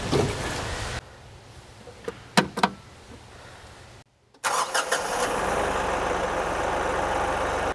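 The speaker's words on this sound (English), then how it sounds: "Let's fire up the tractor" A tractor engine cranks briefly with sharp clicks, falls quiet for a moment, then catches and settles into a steady, loud rumbling idle that continues to the end.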